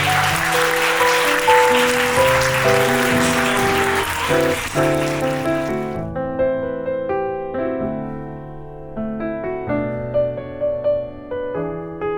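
Wedding guests at a convention hall ceremony in Gapyeong applaud in a loud, dense burst of clapping that fades after about six seconds, leaving music playing on alone.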